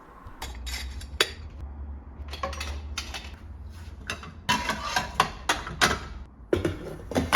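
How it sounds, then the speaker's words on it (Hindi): Soaped dishes and utensils clatter and clink in bursts as they are washed with water in a Chinese kitchen, with scraping and knocking against a low background hum, without speech. "पहले मैं साबुन लगा के साइड में रख देती हूँ बर्तनों को, फिर पानी से धो देती हूँ"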